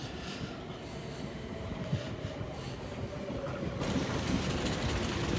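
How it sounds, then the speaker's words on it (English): A train rolling through Clapham Junction, steady rumbling with wheel clatter and faint squeals, growing louder and brighter toward the end as it draws nearer. "And there's my train."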